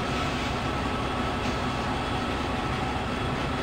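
A locomotive running on a main line in the MSTS OpenRails train simulator game, a steady dense rumble and roar that stays constant and loud throughout with no speech.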